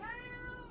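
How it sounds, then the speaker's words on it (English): A pet cat lets out a single drawn-out cry indoors, a close, plaintive meow that slides slightly in pitch and fades at the end. "my cat cries at me constantly"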